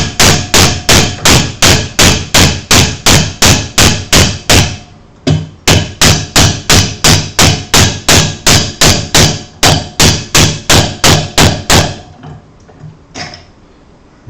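A wooden dowel is hammered through a steel dowel-sizing plate in a workshop: a long run of loud, evenly spaced hammer blows, a brief pause, another fast series, then it stops.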